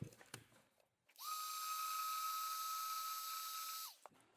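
A heat gun blows steadily for about three seconds with a high whine and an airy hiss as it shrinks heat-shrink tubing over a wire connector on a John Deere 140 tractor rebuild. It is close and loud, starting and stopping cleanly.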